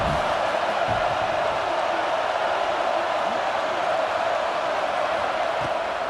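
Home crowd in the EA Sports College Football 26 video game, a loud, steady stadium roar from a dense mass of fans that holds constant without breaks.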